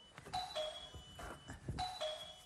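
A doorbell rings twice in quick succession, each a two-tone ding-dong, fairly loud and close.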